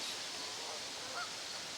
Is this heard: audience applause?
no